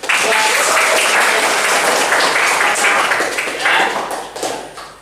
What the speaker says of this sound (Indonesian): kita kasih tepuk tangan buat